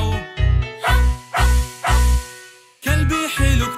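In a children's song, a voice imitates a dog barking in steady, evenly spaced barks over the music, followed by a brief pause and two more.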